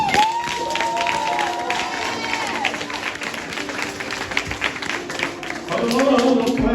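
Applause and cheering fill the hall as an audience claps at a summer institute award ceremony, a steady crowd roar with a voice talking over it near the end.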